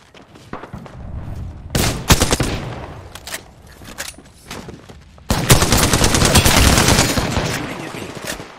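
Bursts of rapid automatic gunfire in a battle royale shooter match, loud and dense, with a short volley early on and a sustained heavy barrage in the second half.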